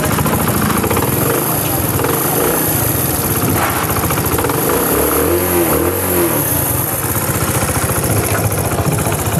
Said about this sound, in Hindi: हमारी बाइक जो है स्टार्ट हो चुकी है। इंजन की साउंड बिल्कुल बेहतरीन इसकी बन गई है।